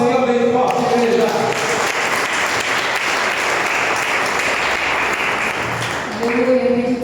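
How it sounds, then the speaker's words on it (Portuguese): A church congregation claps strongly and steadily for several seconds, dense crowd applause, with a voice speaking at the start and again at the end. "Aplauda o Senhor bem forte, igreja."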